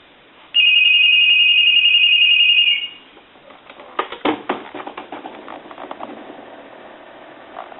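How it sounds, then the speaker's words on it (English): A telephone rings with a single long electronic trill, loud and close, followed by clattering mechanical clicks. "I want to go ahead and ring the telephone"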